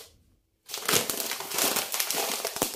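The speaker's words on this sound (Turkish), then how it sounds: "Şöyle bir tane çöp poşeti aldım." A plastic garbage bag, part of a grocery haul, crinkles and crackles close up after a brief moment of silence, with steady rustling handling noise that continues to the end.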